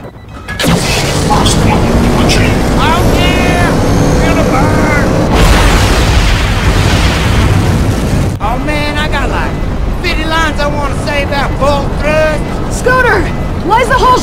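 Spaceship rockets thrust and rumble in Tales from the Borderlands, a loud continuous low roar with booming bursts under a steady game soundtrack, while voices talk over it.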